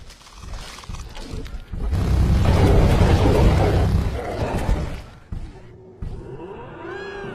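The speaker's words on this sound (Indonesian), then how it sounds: "They're getting bombarded by really large hail." Heavy hail and thunder from a storm in a video game, a broad loud roaring rumble that swells through the middle and then eases, with scattered lighter sounds near the end.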